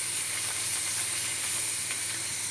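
Pearl millet bread cooks in a pan over raised heat, giving a steady, soft sizzling hiss with faint crackles throughout, close by and without talking.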